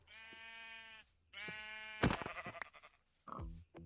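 Two long sheep bleats in a row in a video game, loud and near, followed by a burst of clattering noise and a short grunting sound.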